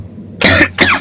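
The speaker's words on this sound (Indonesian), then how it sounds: "Batuk." Two quick, harsh coughs in close succession, loud and near.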